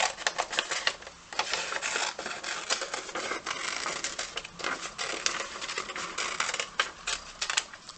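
Scissors cutting a paper shape for a collage, dense crisp snipping and rustling close by with an uneven rhythm, continuous and without talk.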